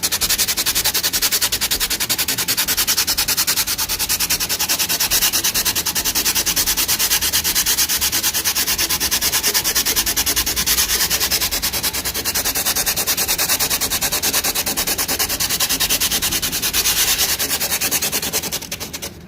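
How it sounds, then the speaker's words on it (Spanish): Sandpaper rasps continuously over the wood around a crack in a baroque altarpiece, a loud, close, even scrubbing that barely lets up for nearly twenty seconds before trailing off. "Tratando de dar continuidad al lijado para que no se vuelva a hundir la grieta"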